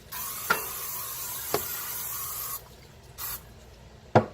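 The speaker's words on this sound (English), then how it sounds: "cooking spray" Cooking spray hissing from a can onto a BroilKing PCG-10 electric griddle set at 300, heard as a sustained spray over a steady background hiss, with a few sharp clicks and a short burst near the end.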